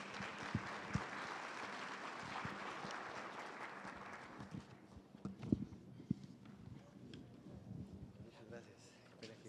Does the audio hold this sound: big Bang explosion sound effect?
no